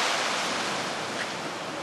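Ocean breakers crash and wash along a clifftop coastal walk, a steady broadband surf roar with some wind buffeting the microphone and no voices.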